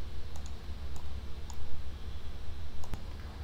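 A few faint, sharp computer mouse clicks spaced irregularly over a low steady room hum, with no talking.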